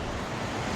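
A river in Nueva Vizcaya rushes past in a steady, broadband wash of flowing water, close and even throughout a brief moment, with no one talking.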